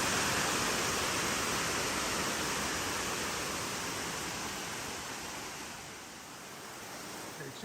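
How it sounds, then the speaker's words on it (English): A miniature waterfall pours steadily nearby, producing a dense, even rush of splashing water that fills the whole stretch and eases slightly toward the end. "The miniature waterfall."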